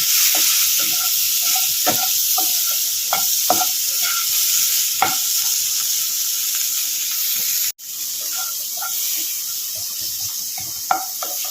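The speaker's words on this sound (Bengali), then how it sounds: "তাই তো দিয়ে দিয়েছি নুন হলুদ গুঁড়ো আর লঙ্কার গুঁড়ো এবার ওটা ভালো করে আমি ভেজে নেবো" Crumbled chhana fries in a pan with salt, turmeric and chili powder, giving a steady, bright sizzle. Repeated scraping stir strokes and clinks of a spatula are heard up close, with a brief dropout in the middle.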